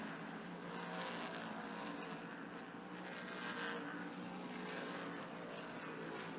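NASCAR Whelen Modified race cars roar around Thompson Speedway in a steady, distant engine drone that swells slightly as the field passes, a continuous wash of racing noise with no talking.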